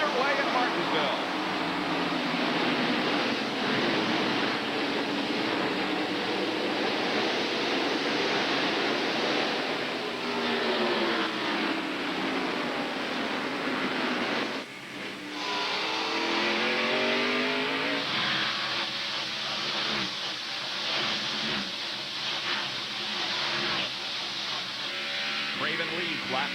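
A field of NASCAR stock cars roars through the race start of the 1996 Goody's Headache Powder 500 at Martinsville Speedway, a dense, continuous engine drone with passing swells under steady commentator talk.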